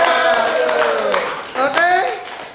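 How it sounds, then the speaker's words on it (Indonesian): Children clap their hands for themselves in a short burst of scattered applause during an online class, the claps mixed with overlapping talking and a cheerful adult voice. "Wah, tepuk tangan buat diri kita sendiri."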